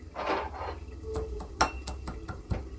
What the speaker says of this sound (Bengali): এই যে নিয়েছি ছোট্ট হামানদিস্তাটাতে, এর মধ্যে এবার পিষে নেব একটু।